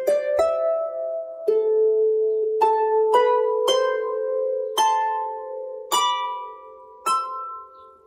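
Manx harp playing a short melodic phrase of about ten plucked notes, bright and ringing with each note overlapping the last, close and solo with no voices.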